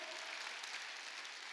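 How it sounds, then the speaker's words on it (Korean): Church congregation at a Wednesday worship service applauding, a steady wash of clapping from many hands, moderately distant and even throughout. "깨달은 사람만 박수야."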